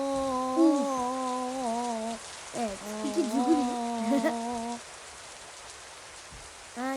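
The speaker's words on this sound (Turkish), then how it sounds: "yağmur başladı" Steady rain hiss in Roblox runs throughout, with a voice talking loudly over the first few seconds before the rain carries on alone.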